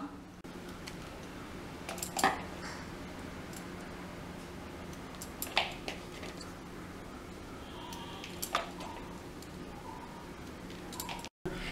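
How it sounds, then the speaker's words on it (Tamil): Green chillies have their stem tips snipped off in a kitchen, a few sharp isolated clicks of a cut spaced seconds apart over a quiet background. "இந்த நுனி பகுதியை மட்டும் நம்ம இப்படி கட் பண்ணி போட்டுக்கலாம்"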